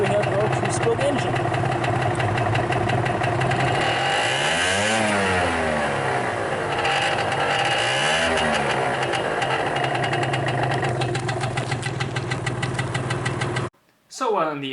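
A 2015 Vespa Primavera scooter with a 50cc two-stroke engine idles close and loud, a steady buzzing putter with a couple of brief rev swells in the middle, then cuts off abruptly near the end.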